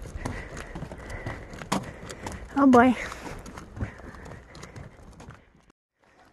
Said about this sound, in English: And horses.